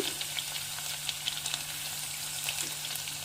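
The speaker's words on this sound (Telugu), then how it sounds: "ఆయిల్ మంచిగా హీట్ అయిందండి తర్వాత మనం వెల్లుల్లిపాయలు వేయాలి ఫస్ట్" Garlic dropped into well-heated oil sizzles and crackles steadily at close range, a constant bright frying hiss with small pops scattered throughout and no voices.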